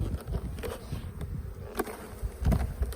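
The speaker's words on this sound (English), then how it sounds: "You can see there's bees inside the cover as well, so they like to go there too." Honey bees buzz in and around an opened hive during a spring inspection, a dense close-up hum with scattered louder passes of individual bees and soft handling knocks.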